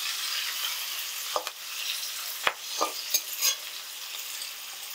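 Carrots and beans frying in a pan for fried rice, a steady close sizzle with a few sharp scrapes and knocks of a utensil stirring the vegetables, no voices.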